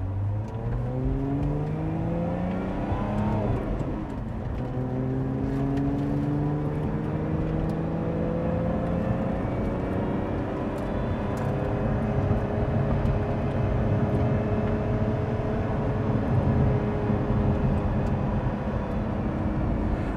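A Lotus Emira sports car accelerates hard in sport mode, its engine revving up through rising sweeps and gear changes, then holding a loud, sustained drone, heard from inside the cabin with no talking.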